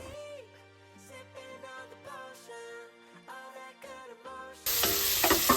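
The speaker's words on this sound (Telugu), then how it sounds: "పసుపు అండ్ కొంచెం చిల్లీ పౌడర్ వేసుకొని ఎగ్స్ని బాగా టోస్ట్ చేసుకోవాలి" Eggs frying in a pan with turmeric and chili powder: a loud, dense burst of sizzling rushes in near the end, after a stretch of melodic music with no frying audible.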